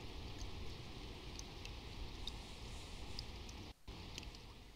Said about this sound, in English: You studied while the rain pattered against the window.